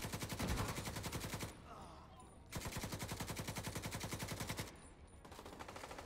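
Rapid automatic gunfire in the video game The Division 2, long sustained bursts of evenly spaced shots at close range, separated by two short pauses.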